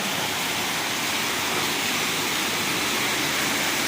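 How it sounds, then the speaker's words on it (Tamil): Heavy storm rain pouring down onto a flooded road in a dense, unbroken roar, loud and constant with no voices. "இன்னும் மழை ஜாஸ்தி அதிகமாக பெய்யுதே தவிர குறையவே இல்லை"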